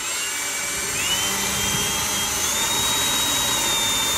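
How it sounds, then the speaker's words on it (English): A power drill whines steadily and loudly while boring a pilot hole into the frame of a 1963 Impala during a sway bar installation, a continuous high-pitched drone with no talk. "You start with a pilot and just drill it."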